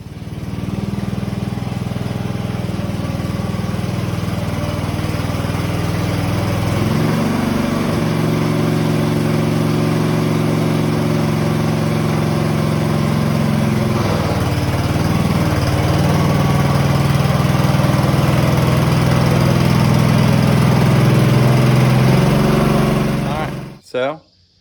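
A single-cylinder Farmall M tractor engine runs loud and close for about twenty-five seconds, chugging steadily with a few shifts in pitch and load before it cuts out at the end.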